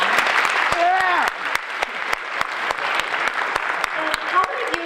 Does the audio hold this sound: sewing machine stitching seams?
no